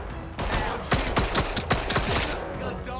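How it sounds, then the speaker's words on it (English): A rusty gun firing in the video game Atomfall, a rapid burst of several loud gunshots with mechanical clatter, sharp repeated cracks close up over a steady game background. "Let's try to shoot one of these guys with a rusty gun."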